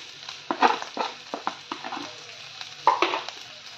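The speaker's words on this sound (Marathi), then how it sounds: "छान कांदा फ्राय करून घ्यायचा आहे तेलामध्ये. हा जो आपण मिरची आणि लसूण कुटून घेतला होता तो टाकून घेऊया" Onion frying in oil after crushed green chili and garlic are added, giving a soft sizzle with scraping stir strokes that rise and fall in short bursts, close by and fairly quiet.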